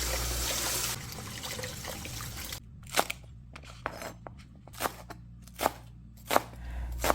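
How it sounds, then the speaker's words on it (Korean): Bok choy leaves are rinsed and shaken under a running tap in a home kitchen: a couple of seconds of steady rushing water, then a quieter stretch broken by several sharp, separate knocks, with no talking. "흐르는 물에 흔들어가며 세척해주고요"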